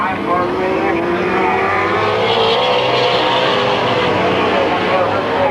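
Race cars at Midvale Speedway in 1995 with engines droning loudly together in a steady, sustained roar, near and continuous, under an announcer's voice.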